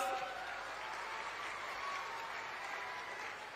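Crowd applause at a political rally in Nanded with Amit Shah, a steady, fairly faint wash of clapping that holds throughout without pause.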